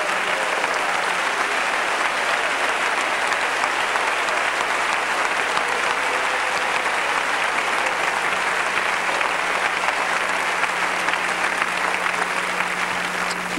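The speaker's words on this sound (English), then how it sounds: "Clap your hands to the Lord." A church congregation at a 1995 worship service claps steadily and continuously, a dense, even roar of many hands filling the hall without pause.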